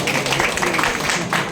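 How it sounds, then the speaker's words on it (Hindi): An audience claps for guests at a speech event in Buxar, Bihar, giving a brief burst of dense applause with voices mixed in. "मेहमानों के लिए एक बार जोरदार तालियां साहब।"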